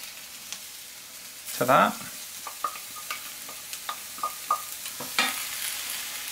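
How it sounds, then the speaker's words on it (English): Garlic cloves sizzling in a pan for a tomato eggplant curry, a steady fry with a burst of louder hissing as they go in and scattered stirring clicks, with brief talk. "we're going to add about 4 large cloves of garlic"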